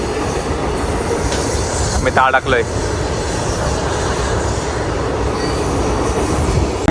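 A passenger train in Gujarat rumbles steadily along the rails with a loud, continuous roar and wheel squeal. Someone speaks briefly over the din.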